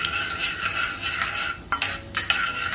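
Urad dal and mustard seeds frying in oil on medium heat for upma, a bright steady sizzle up close with two quick scrapes of a spoon near the end.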